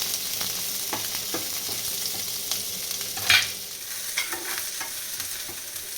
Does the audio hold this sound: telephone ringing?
no